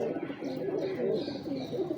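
Several big-breed baazi maker pigeons coo in low, overlapping rolling phrases close at hand, steady throughout with a faint chirp here and there.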